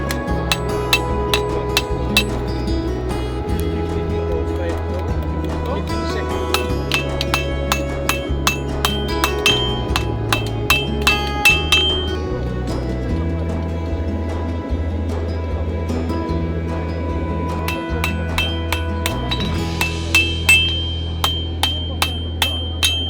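Rapid, steady hammer blows ring out on hot iron, repeated many times with a bright clanging tone over a low droning background.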